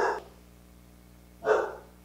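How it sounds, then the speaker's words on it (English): A dog barks twice indoors, a short sharp bark followed by a pause of over a second, then a second louder bark, with a faint hum in between. "My dogs are barking at something."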